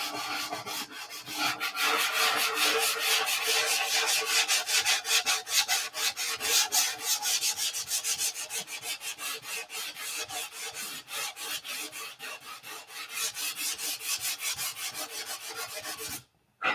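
Superfill sand filler on a car body is sanded by hand in fast, steady back-and-forth rasping strokes, loud and close, stopping near the end.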